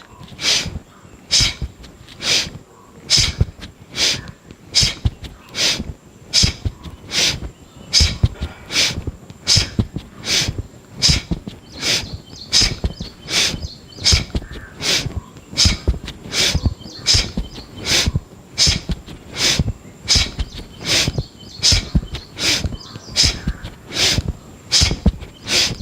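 Forceful breathing during a seated exercise routine, with sharp rhythmic exhalations through the nose repeated steadily about once a second for the whole stretch, close and loud with no talking.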